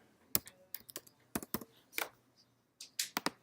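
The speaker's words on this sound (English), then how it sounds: "then I type in a password" A password typed on a computer keyboard: a short, uneven run of soft key clicks and taps close by, with brief pauses between strokes and no talking.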